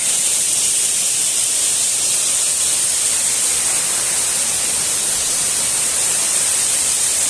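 A large waterfall roars up close, a loud, continuous rushing wash of water that never pauses.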